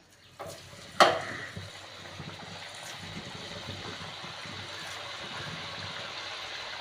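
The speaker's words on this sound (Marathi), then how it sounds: "आता हे आपण वडे या तेलामध्ये सोडून घेऊयात" Chicken vadas drop into hot oil with a sharp splash, followed by a steady bubbling fry that continues evenly and close by.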